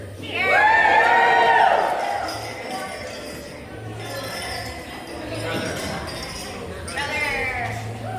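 Glasses clink together in a wedding toast to the bride and groom, bright ringing chimes over a murmuring crowd with people talking nearby.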